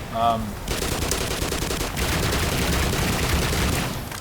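Sustained automatic gunfire in the video game Black Mesa, loud and continuous rapid shots filling the whole stretch, preceded by a brief electronic tone at the start.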